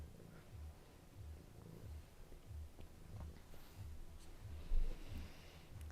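A cat purring softly and steadily, a faint low rhythmic rumble repeating about twice per second under quiet room noise.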